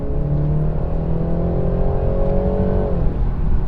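A 2019 BMW 330i in sport mode accelerates hard, the engine drone rising steadily in pitch for about three seconds, then dipping briefly at a gear change and climbing again, loud and continuous with no talk.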